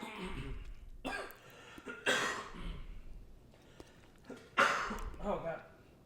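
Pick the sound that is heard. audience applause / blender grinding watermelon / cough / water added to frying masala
cough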